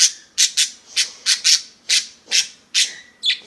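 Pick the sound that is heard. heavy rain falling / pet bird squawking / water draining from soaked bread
pet bird squawking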